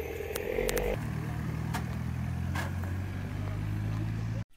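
A BMW M2 Competition driving a slalom course, its engine droning steadily at a distance with a shift in pitch early on, under continuous background noise before cutting off abruptly.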